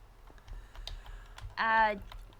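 Keys on a computer keyboard are tapped in a quiet room, a few soft, scattered clicks close by, followed by a brief voiced sound.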